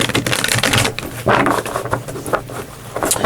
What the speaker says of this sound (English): I'm shuffling our deck.